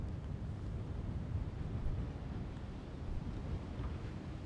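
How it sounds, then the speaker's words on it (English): Cold wind gusting across open ground in a Toronto park in March, a steady low rumbling roar of air buffeting the microphone with no voices. "But it is a cold, windy day."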